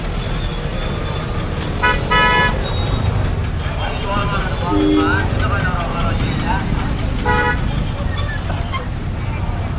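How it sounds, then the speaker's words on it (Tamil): Busy market street traffic in Usilampatti, with vehicle engines rumbling close by and several sharp horn toots spread through it, while voices chatter underneath. "பாருங்க, இதான் சந்தையாட்டுங்க, எவ்வளோ டிராஃபிக்காக இருக்குன்னு பாருங்க."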